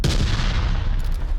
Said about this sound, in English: Paz sets off his C4.